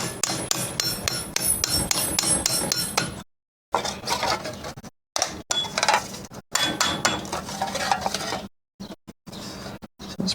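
Metal siding from a vintage truck camper is hammered flat with rapid, ringing metallic strikes that come in close, loud bursts broken by short silent gaps.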